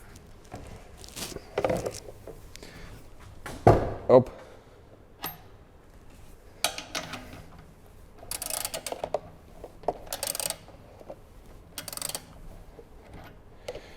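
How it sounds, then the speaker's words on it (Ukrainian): A ratchet wrench loosens bolts on an air compressor during servicing, with scattered bursts of rapid clicking, knocks and tool handling in a quiet room. "з'являється тріскачка, якою я зараз буду викручувати це все"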